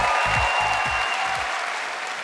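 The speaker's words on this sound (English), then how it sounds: "Please join me in applauding a decade of success and welcome to the stage," Awards-night audience applauds Simone Rocha, honoured as independent British brand at The Fashion Awards 2021, a dense steady wash of clapping throughout with low thumps underneath.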